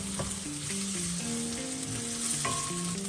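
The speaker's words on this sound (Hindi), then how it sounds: "अभी हमें 10 to 15 सेकेंड अदरक लहसुन और प्याज फ्राई करना है।" Ginger, garlic and onion fry in hot oil for a chicken stir fry, making a loud, continuous sizzle up close with faint stirring under background music.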